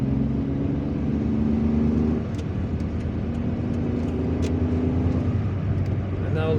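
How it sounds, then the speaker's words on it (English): Car traffic crawls at the entrance to a stadium in Algiers, a steady mid-pitched engine drone heard from inside a moving vehicle, with a slight rise and fall as cars shift and idle nearby. "There was some traffic at the entrance of the stadium."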